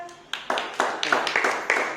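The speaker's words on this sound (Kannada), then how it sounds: "ಚಪ್ಪಾಳೆ ಹಾಕ್ರಪ್ಪ ಎಲ್ಲರೂ." A classroom of children claps on cue, about seven separate, fairly close claps landing one after another in a loose, uneven rhythm over two seconds.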